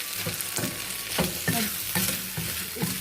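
A cornflour and milk mixture is stirred and cooked in a pan, giving a steady soft hiss broken by rhythmic scraping strokes about every half second, close up with no talking.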